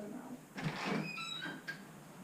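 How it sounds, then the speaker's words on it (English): Door opened at a house to let a trapped bird outside, a short sliding rattle and scrape, close and moderately loud, followed by a brief clack. "Open the door and let him"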